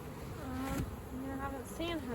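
A honey bee swarm being caught and moved into a cathedral hive hums with a close, wavering buzz, individual bees passing near with rising and falling drones over a dense background hum.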